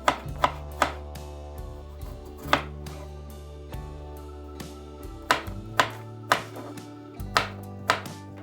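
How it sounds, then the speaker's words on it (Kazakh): A knife chops tomatoes and cucumbers into thin slices for homemade doner: a steady run of crisp, close board knocks, roughly one or two each second, over soft background music. "Ең алдымен помидорды осылай турап аламыз. Қиярды да дәл солай жіңішке етіп турап шығамыз."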